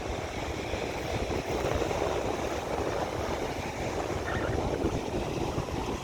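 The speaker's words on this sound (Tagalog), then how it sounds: "Oh, ang lakas ng alon, halika dito, be." Strong sea waves wash and churn in a steady, moderately distant roar along the shore, with no clear voices over it.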